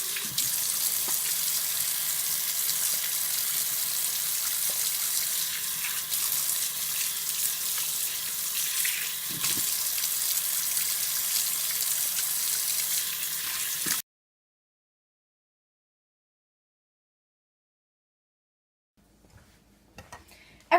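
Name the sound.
washing hands under running tap water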